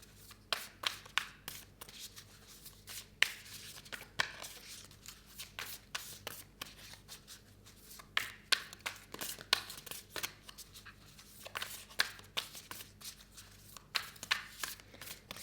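Tarot cards being shuffled by hand, with repeated soft riffling and papery slapping bursts in an irregular rhythm, close and fairly quiet, with no talking.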